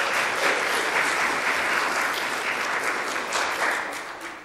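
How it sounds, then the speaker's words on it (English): A congregation at a Sunday service in a United Methodist church applauds together, a dense, steady roar of clapping that holds for several seconds and then tapers off toward the end. "I think you should all give yourselves a round of applause."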